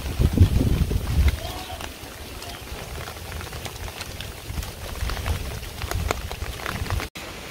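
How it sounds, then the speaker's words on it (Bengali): Steady rain patters throughout, a broad hiss with scattered drop taps, while people talk nearby over it. "আজকে সারাদিন একভাবে বৃষ্টি হয়েছে,"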